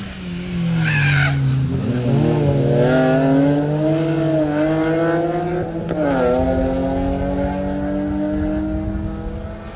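A BMW and a Mini rally car roar through a corner on a rally stage, engines revving up and down with tyres squealing, loud and close, the BMW following hard behind the Mini.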